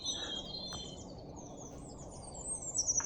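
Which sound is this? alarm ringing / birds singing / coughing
birds singing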